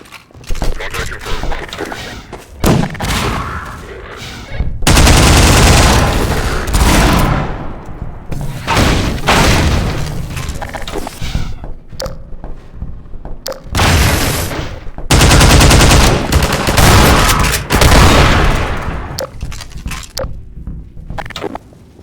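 Loud bursts of gunfire from the Half-Life 2 Anticitizen One chapter, dense repeated volleys in two main stretches, with quieter gaps, game effects and talking in between.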